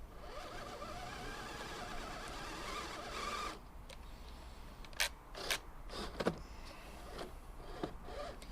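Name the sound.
LDRC LD18401 Land Rover 1/18 RC crawler driving in reverse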